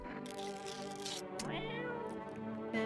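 A cat in the video game No, I'm Not a Human meows repeatedly, with drawn-out, wavering cries that rise and fall over a steady background tone and end in a sharper call.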